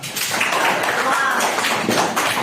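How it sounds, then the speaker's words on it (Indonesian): An audience applauds group 1 in a classroom or seminar setting, with steady, fairly loud clapping that runs for the full stretch while a voice talks over it. "Terima kasih. Beri aplaus dulu ya."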